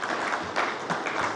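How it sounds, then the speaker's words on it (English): A short stretch of audience applause at a business breakfast forum, a brief patter of many hands clapping at moderate level with no voices heard. "Can we do a better round of applause for Mr. Hudson?"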